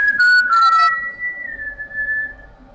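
A shrill steady whistle tone sounds loud and near, beginning with a buzzy harmonic-rich onset before settling into a clear sustained pitch that slowly fades over about two seconds.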